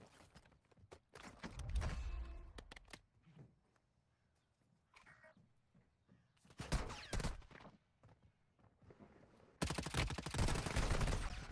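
Gunfire in the Warzone Mobile shooter game cracks in scattered bursts and rapid volleys, with quieter gaps and a dense, loud stretch of shots near the end.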